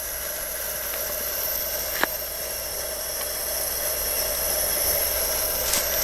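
A vintage Coleman camp stove burner, cooking out in the bush, hisses in a steady, even broadband rush throughout, with one short click partway through and no talking.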